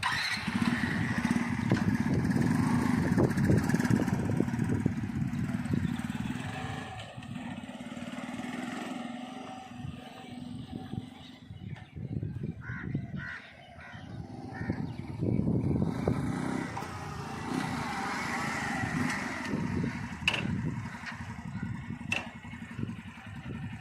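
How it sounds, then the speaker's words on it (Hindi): A Suzuki GD 110 motorcycle engine runs steadily close by, a smooth idling thrum with small rises and dips in pitch and a few light mechanical ticks. "अच्छा जी, तो बाइक चलने में वाकई बहुत स्मूथ है।"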